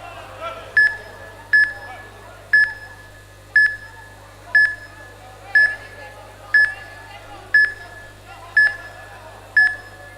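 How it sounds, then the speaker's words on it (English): A countdown timer at an amateur MMA championship bout beeps steadily about once per second, each beep short and sharp. The beeps carry over low arena noise and a steady hum. "You can hear the timer counting down."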